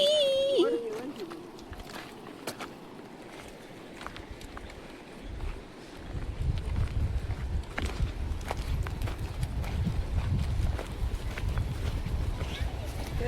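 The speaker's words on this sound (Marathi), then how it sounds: "आवाज बघ कसलो येता तो वाऱ्याचो." Wind blows outdoors at Ghonsari Kurli, first faint and then a steady low rumbling buffet from midway on, with people talking and scattered footsteps.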